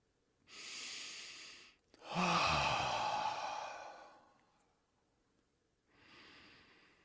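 Deep breathing during a stretch comes through as a soft inhale, then a long, louder sighing exhale with a throaty edge, followed after a pause by another quiet breath, close and with no talking.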